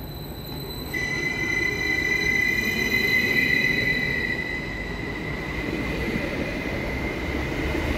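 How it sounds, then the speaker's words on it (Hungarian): A Flirt 3 passenger train running between Győr and Fertőszentmiklós, heard from on board as a loud steady rumble with high squealing wheel tones rising and fading, no talk. "Győrből pedig egy Flirt 3-as személyvonattal utaztunk Fertőszent Miklósig."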